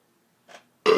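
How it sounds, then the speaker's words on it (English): A single short burp bursts out close and loud at the end, following a softer throaty sound a moment earlier, with silence around them. "Hang on, I gotta burp."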